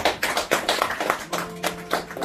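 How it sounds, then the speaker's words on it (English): A small crowd at a Fraternal Order of Eagles gathering gives a brief round of applause. The sparse, uneven claps come from nearby and are moderately loud, with a faint voice or tone partway through. "Give them a big round of applause."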